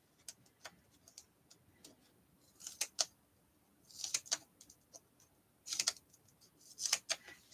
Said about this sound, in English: So we're going to cut a whole lot of little pieces of foam tape